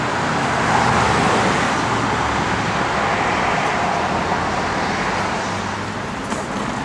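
A 1972 Oldsmobile 442 drives along, its engine producing a steady, continuous roar mixed with road noise that stays loud and even throughout, easing off slightly near the end.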